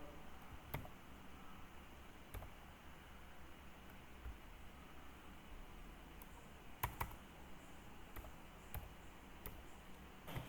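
Sparse computer keyboard keystrokes while writing ASP.NET Core Web API code, a few isolated clicks spread over a steady low background hiss, quiet and close, with no talking.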